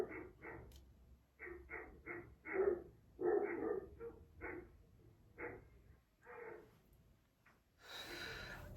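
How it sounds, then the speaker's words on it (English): Several dogs bark in short bursts at a distance, an irregular back-and-forth of yaps and woofs with brief pauses between them. "The dog next door was barking at the dogs across the street."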